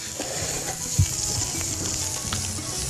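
Garlic fries in a pan with a steady close sizzle and crackle, a soft thump or stir partway through, with no talking.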